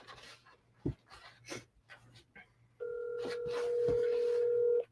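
A telephone call being placed the old-fashioned way: scattered thumps and background hiss, then a steady electronic dial-type tone holding for about two seconds, close and clear, with no speech.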